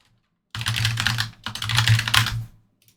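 Rapid keystrokes on a computer keyboard as a password is entered while setting up a League of Legends account, two close bursts of clicking separated by a brief pause, with no talk.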